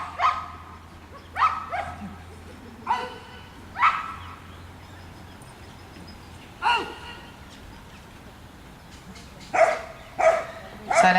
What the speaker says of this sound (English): So now she's doing what we call a bark and hold.